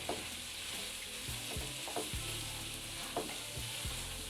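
Cauliflower coated with turmeric and spices is stirred in a hot pan for gobi biryani, giving a steady close sizzle broken by several scraping spoon strokes.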